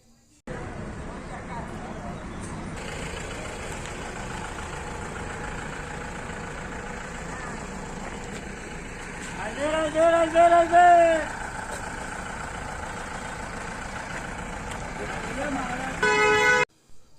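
Buses idle at Pushkar bus stand in Rajasthan under a steady background drone and voices, with one loud horn blast midway and another short honk near the end.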